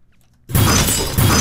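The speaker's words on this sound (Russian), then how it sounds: "мы слышим также здесь примеси на верхах какого-то стекла" Glass shattering layered into a Mortal Kombat punch sound design: a sudden loud, bright crashing burst after a brief quiet lead-in, with a second heavy hit landing near the end.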